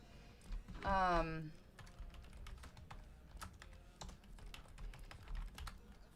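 A computer keyboard clatters with quick, uneven keystrokes close to the microphone, running through most of the span, while a voice makes a short drawn-out sound near the start.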